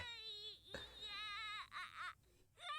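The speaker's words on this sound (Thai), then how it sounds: "มีแค่เสียงร้องเท่านั้นแหละ ที่ดังกว่าคนอื่น" Baby Goku cries in Dragon Ball Z Kakarot with loud, wavering infant wails in repeated bursts, clear and close.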